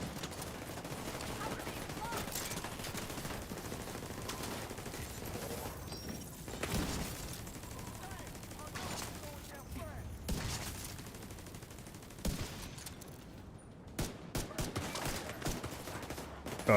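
Pistol fire in a video game crackles as a run of repeated shots, irregular and fairly close, scattered over a busy backdrop of in-game noise.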